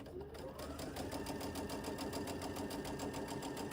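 A sewing machine stitches a quilt block onto a sweatshirt, a fast, even mechanical whir with a rapid regular needle beat, steady and close, running alone without pause.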